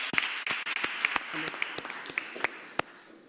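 An audience at a school committee meeting claps in a loose, sparse patter of individual hand claps, moderately close, fading slightly toward the end.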